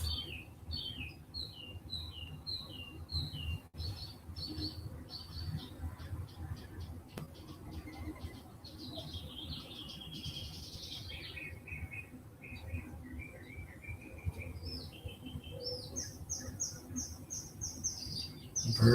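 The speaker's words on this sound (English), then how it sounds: "Birds are especially vocal this morning in my house." Birds chirp and sing indoors in the morning, with faint repeated tweets and short song phrases throughout over a quiet room background.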